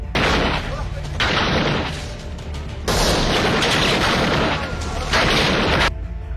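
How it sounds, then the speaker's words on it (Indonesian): Loud sustained gunfire in a movie scene, a group shooting toward a forest: dense booming bursts come in long waves with brief gaps between them, close and heavy. "Mereka pun langsung menembak ke arah hutan."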